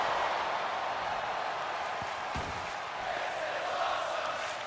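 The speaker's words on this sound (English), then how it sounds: "The crowd showing their appreciation" Virtual arena crowd in a WWE 2K24 wrestling match cheers during an Elimination Chamber bout, a steady, loud, dense roar of the audience running throughout with no distinct talk.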